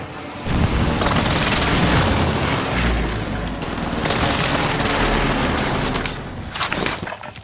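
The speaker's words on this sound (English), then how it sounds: "Precision airstrike missed" Precision airstrike explosions in Call of Duty: Modern Warfare roar as a loud, sustained barrage of deep booms and rumbling blasts, with bursts of crackling gunfire layered through the continuous din.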